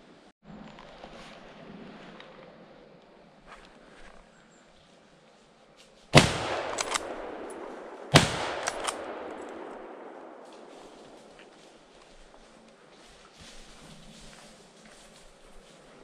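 Two loud, sharp rifle shots ring out about two seconds apart during a driven wild boar hunt in open country, each followed by a long fading echo over quiet outdoor background.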